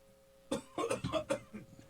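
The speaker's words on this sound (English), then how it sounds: "He has an ugly cough." A man coughs in a quick series of harsh, raspy bursts that follow a brief quiet moment, close and fairly loud, with no talk.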